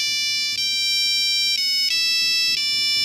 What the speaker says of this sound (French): on pouvait créer nos propres sonneries polyphoniques